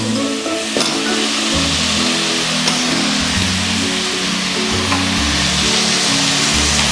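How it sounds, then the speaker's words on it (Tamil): Sliced drumsticks sauté with softened tomato and curry leaves in a pan for poriyal, giving a steady, close sizzle with occasional stirring scrapes and no talk. "முருங்கைக்காய் நல்லா வதங்கட்டும்."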